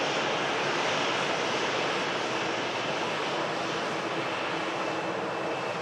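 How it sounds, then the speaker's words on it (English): KLM airliner in old livery passing nearby, a loud, steady wash of jet engine roar with a hissing, surf-like texture that holds evenly throughout. "Seb's saying this KLM in the old scheme."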